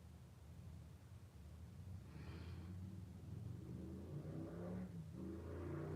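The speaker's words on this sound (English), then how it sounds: "Somebody cutting up on their motorbike." A motorbike being revved hard nearby: a steady rumbling engine that swells into rising revs over several seconds, heard alone with no talking.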